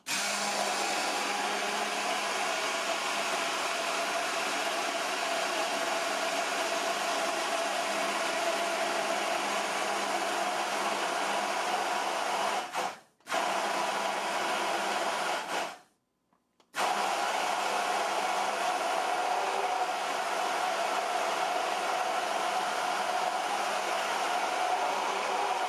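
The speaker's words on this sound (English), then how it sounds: "With the hand blender still running, slowly raise the shaft to the top of the mixture and back down to incorporate the rest of the oil." A Braun Multiquick 5 immersion blender runs on turbo while emulsifying mayonnaise, giving a loud, steady, dense whir that holds for most of the stretch and cuts out twice briefly near the middle, with no talk.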